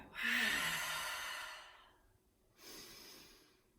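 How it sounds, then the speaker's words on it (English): One big full inhale, then a long releasing exhale, heard up close during a yoga flow. A second shorter breath follows at the end. "I'm going to take a big full breath in and let it all go."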